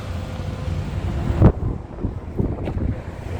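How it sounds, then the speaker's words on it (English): Steady wind buffeting a microphone, a low rumbling roar with a couple of stronger gusts, heard outdoors with no talking. "it is windy"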